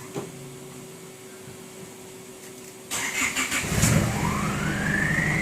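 A turbocharged pickup engine on a steel exhaust pipe idles, then the throttle is blipped into a sharp rev that rises and holds with a rising turbo whine, loud and close, with no talk.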